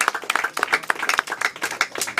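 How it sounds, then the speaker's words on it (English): An audience at a mayoral candidate's event claps in dense, irregular bursts, close and lively for a couple of seconds. "give them a round of applause"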